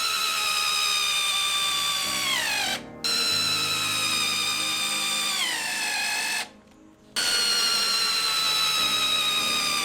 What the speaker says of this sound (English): I fixed them to the other timber beam with some big screws.